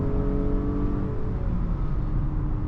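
Engine of a 2025 Acura RDX A-Spec in sport mode accelerating, with synthesized engine sound piped in: a steady, loud, droning hum with rising harmonics heard from inside the cabin, no voices.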